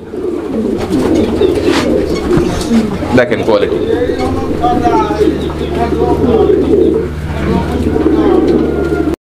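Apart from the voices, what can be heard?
racing pigeons cooing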